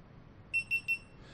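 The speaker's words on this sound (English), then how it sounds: "You'll always hear the 1, 2, 3 beep unless you turn that off." Three quick, high-pitched electronic power-on beeps from a GoPro Hero3+ Black Edition sound in a steady row over faint background hiss.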